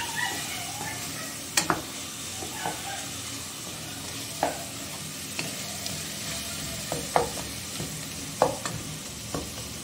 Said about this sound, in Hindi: अब चिकन को भून लें अच्छी तरह